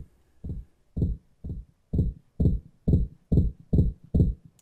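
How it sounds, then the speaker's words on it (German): A heartbeat sound plays in the game No More Room in Hell as a steady, low, thumping pulse. About nine evenly spaced beats are heard alone, each a soft double thud at a slightly quick resting pace. "Herzschlag."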